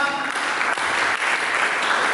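A church congregation gives a round of applause during a sermon, a thick, even wash of many hands clapping at once, sustained and fairly loud throughout.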